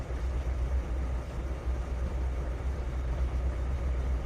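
A train engine rumbles down the track in the Trainz 2019 railway game, a steady low drone with rolling rail noise that holds evenly throughout, with no voices.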